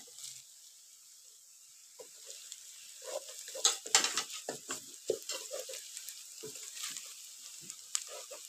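Whole spices crackle and sizzle in hot oil while chicken salan cooks, starting quietly then breaking into a cluster of sharp pops and spits, fairly close and faint overall, with no voices.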